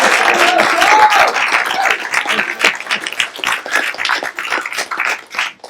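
Applause and clapping from a comedy-show audience at the start of the set, a dense, loud wash of hands that swells at first, then thins into scattered claps and fades over several seconds.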